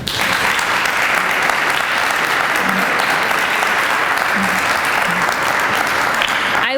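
A large audience applauds city staff at a 2020 State of the City address in Mount Clemens, a dense, steady wash of clapping that holds at full strength throughout with no voices over it.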